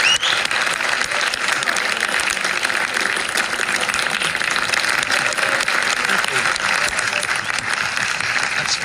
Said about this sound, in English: I'm sure we'd like to give him a huge round of applause